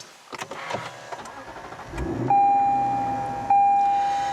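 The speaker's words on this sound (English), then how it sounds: "to start the vehicle up, just put your foot on the brake and then push the button here to fire it up" A 2016 Lexus GS F V8 is started by push button. Soft cabin clicks are followed by a short low rumble as the engine fires, then sustained electronic chime tones sound, all near and with no voices.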